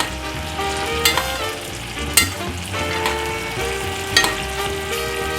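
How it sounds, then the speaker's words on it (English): Wagyu picanha steaks sizzle steadily in a hot pan as the heat dies down, a close crackling hiss broken by a few sharp clinks of a utensil. "the heat has died down, so it's not sizzling as much anymore"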